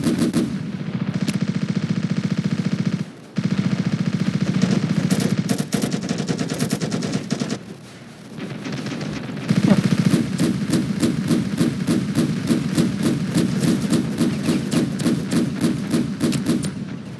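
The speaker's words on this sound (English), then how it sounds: "I'm probably getting shot right now." Dense automatic gunfire rattles almost without a break in the video game Ravenfield, with fast repeating shots, heavy thuds and a couple of brief drops in the din. It stays loud and close the whole time.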